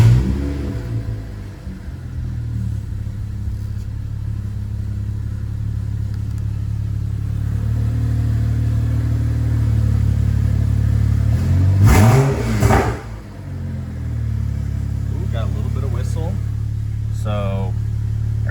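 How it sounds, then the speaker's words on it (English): A BMW N55 engine fitted with a Pure500 turbo starts and settles into a loud, steady idle rumble up close, with a brief rev surge partway through before dropping back to idle. "So all we need to do now is start the motor, and we'll be good to go. So let's see how it sounds."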